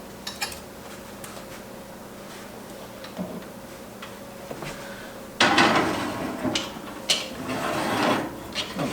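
A Dutch oven pot set into a kitchen oven, with clanks of the pot and metal rack followed by the oven door shutting, close and moderately loud, no talking.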